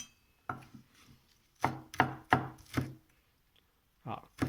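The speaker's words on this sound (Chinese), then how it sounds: "如果我们不拍一下直接切的话呢，这个蒜头怎么说呢它有时候没有那么出味" Garlic cloves smashed and chopped with a knife on a cutting board, a run of sharp, close thuds and chops in an uneven rhythm with brief pauses between strokes.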